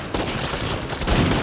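Rapid gunfire in the video game Uncharted 4 A Thief's End on PS5, a dense burst of shots running through the whole moment with a louder crack near the end.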